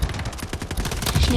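Rapid automatic gunfire in the Delta Force Mobile shooter, a dense, continuous burst of close shots.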